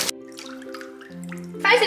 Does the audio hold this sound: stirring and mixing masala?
no